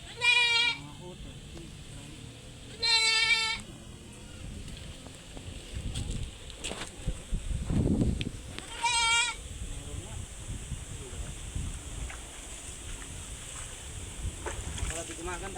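Several goats on a Filipino farm bleat in loud, wavering bursts, three distinct calls spaced across the stretch, with rustling handling noise and someone talking in between.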